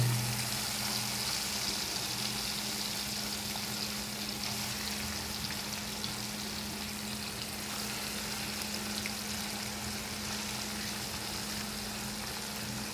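Fish sizzling steadily in hot oil in a pan while being cooked with a spice mix, a continuous hiss with a low background hum and no voices.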